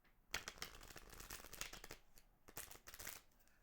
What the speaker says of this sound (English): One more shuffle for Libra.